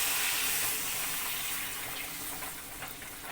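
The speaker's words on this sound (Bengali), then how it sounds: "এবার আমি পরিমাণ মতো জল এতে দিয়ে দিচ্ছি" Water poured into a pan of spiced catla fish curry, a close rushing splash that is loudest at the start and then slowly fades, with no voices.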